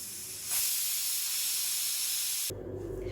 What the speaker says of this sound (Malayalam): ഇപ്പോൾ ഇതാ കുക്കറിൽ നിന്ന് 2 വിസിൽ പോയിട്ടുണ്ട്